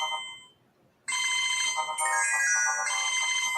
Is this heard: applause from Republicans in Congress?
no